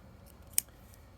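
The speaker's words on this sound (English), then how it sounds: "Then I have this here, like a little small scissors, very useful" One quick, crisp snip of the small scissors on a Swiss Army knife, close and clear against a quiet room.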